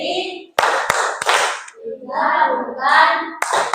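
Children in a classroom perform a rhythmic cheer clap: a few sharp single hand claps spaced apart, chanted children's voices in between, then a fresh burst of clapping at the end.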